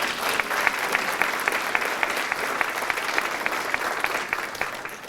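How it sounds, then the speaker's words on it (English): Audience members at a community band Christmas concert clap steadily throughout, a full, even round of applause with no talk over it. "so give her a round of applause."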